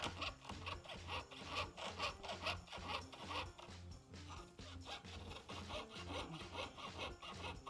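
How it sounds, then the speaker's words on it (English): A jeweler's piercing saw cuts through sheet metal along a marked line, producing steady, rhythmic rasping strokes that repeat back and forth close up, with no voices. "so that I'm sawing on the inside of the line, it can help you sort of keep a straighter line while sawing"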